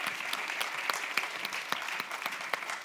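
Steady applause from an audience at a mayors' awards ceremony in the Rhône, dense clapping with sharper individual claps standing out, continuing evenly throughout.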